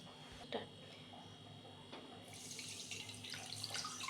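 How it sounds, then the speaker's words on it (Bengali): Water poured into a pan of sugar to make rasmalai syrup, a steady splashing pour building from about two seconds and running on to the end, close and moderately loud, with no one speaking. "এবার আমি জল দিয়ে দিচ্ছি।"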